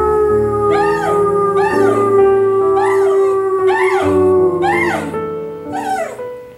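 A dog howls close by in a repeated sing-along pattern, about six rising and falling wails with yips at regular intervals over a steady low tone.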